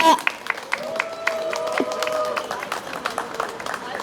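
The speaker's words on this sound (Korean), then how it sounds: "큰 박수 부탁드립니다." Scattered claps from a small outdoor street audience at a political youth-group busking event in Gangdong, Seoul, sparse and uneven, with voices and a steady tone running underneath.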